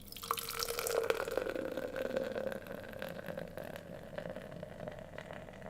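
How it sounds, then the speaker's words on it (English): A carbonated drink pours from a freshly opened can into a glass, a close, steady fizzing and liquid trickle with crackling bubbles that gradually thins out, no voices. "we're going to crack open this can and blow the gain on the audio"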